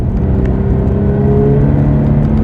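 A car accelerates up to fifty miles an hour with a steady, loud engine drone and road noise building evenly from inside the cabin.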